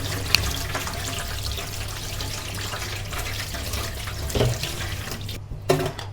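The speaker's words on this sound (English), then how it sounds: "Then clean both under running water." Running tap water washing a salted egg and a century egg in a kitchen: a steady close stream from the faucet, with a few splashes and clunks as the eggs are handled under it.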